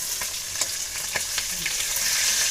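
Shol fish (snakehead) fries in a pan with a steady broadband sizzle, punctuated by a few sharp spits and stirring clicks, close and continuous throughout.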